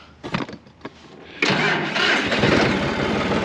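A tractor's engine cranks after a few quiet clicks and knocks, then catches and settles into a loud, close, steady rumbling idle.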